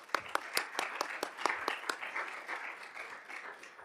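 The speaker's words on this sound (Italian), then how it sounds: "Prego, un applauso." Audience applause welcoming a speaker to the podium at an Italian conference on women and the metaverse; sharp, distinct claps ring out near and clear at first, then thin into softer, sparser clapping.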